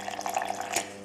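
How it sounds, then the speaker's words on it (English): Fresh water poured into a soaked dosa batter mixture in a blender jar, a soft, continuous trickling splash with small bubbling bursts, moderately quiet and alone. "I'll be adding a bit of fresh water to it just to soak the mixture."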